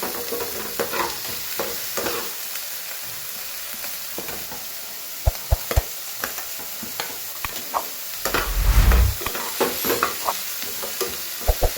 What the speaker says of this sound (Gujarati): ડુંગળી આછી ગુલાબી સોતે થઈ ગઈ છે